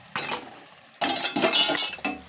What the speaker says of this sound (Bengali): এই ফুলকপিগুলো এখন দিয়ে দিতে হবে।